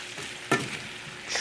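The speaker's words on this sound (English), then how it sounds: "I'm going to stir it up and then cover it" Food in a pan is stirred and sizzles softly, one brief scraping clatter of the utensil standing out over a low, steady frying hiss, close and quiet.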